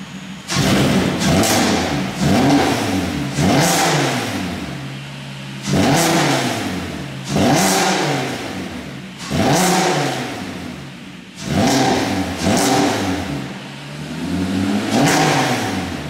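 A diesel car with a stainless steel exhaust revs hard in about six loud, close bursts, each climbing and falling away, with brief idle gaps between them and no voices.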